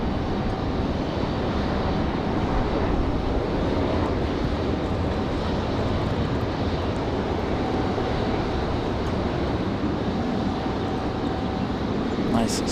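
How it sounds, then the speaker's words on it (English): Sun Country airliner landing on the runway at Raleigh-Durham International, a loud steady broadband roar of engines and rolling wheels throughout, with radio chatter from the control tower mixed in. "Nice smooth touchdown for Sun Country."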